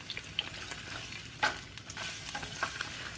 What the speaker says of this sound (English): In a pan, melt 2 tablespoons of butter over medium-high heat. Cook shrimp until pink, about 3 minutes.